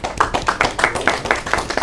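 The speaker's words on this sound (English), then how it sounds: "shall we clap for these 4 groups, please?" Classroom applause from students clapping for several groups, a quick steady run of hand claps, close and fairly loud, with no talking.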